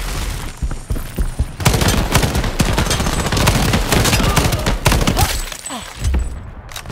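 Rapid bursts of A-3 Pilum assault rifle fire in the shooter game Shatterline, loud and continuous with short pauses, in a PvP match.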